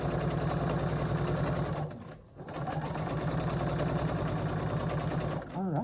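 A sewing machine runs steadily while stitching a row of quilt pieces, loud and close with a rapid mechanical hum, pausing briefly near the middle before resuming, with a short high squeak near the end.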